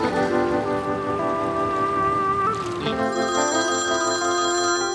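An incoming call rings out in a tense domestic drama scene, a steady electronic telephone tone with sustained pitch that shifts midway, sounding fairly loud and close amid a faint noisy background.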